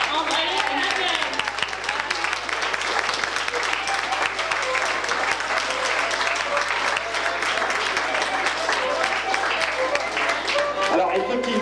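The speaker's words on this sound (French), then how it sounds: "Applaudissez de jeunes mannequins, André et Madeleine." An audience applauds young models André and Madeleine, shown in traditional Perche costume, with steady dense clapping that carries on for the whole stretch at even strength, mixed with crowd noise and some voices.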